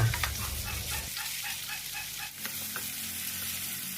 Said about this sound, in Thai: พอน้ำมันร้อนเราก็ใส่เต้าหู้ลงทอดค่ะ